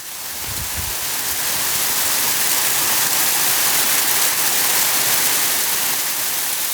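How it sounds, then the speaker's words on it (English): Hail pelts down around a cyclist on a road in Peru, a dense, loud, hissing roar that swells within the first second and then holds steady, with no voices. "Just started hailing."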